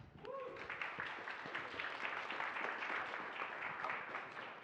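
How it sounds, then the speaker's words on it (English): A conference audience applauds a speaker before a talk on multichain data indexing. The clapping is faint, steady and diffuse, as if heard from a distance, with no speech over it. "So please give him a big round of applause."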